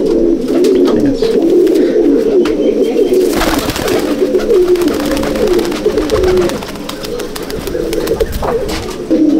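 Pigeons coo steadily and loudly in the Basudeb Bag pigeon loft at Nepalgangue, Pukurpar, a dense overlapping chorus of throaty murmurs with occasional wing flutters and shuffles, continuing alone without talk.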